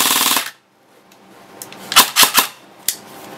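A G&P M4 EOD airsoft rifle on full auto powered by a 20C LiPo, a short fast burst at the start, then after a pause several scattered mechanical clacks and snaps, close and fairly loud.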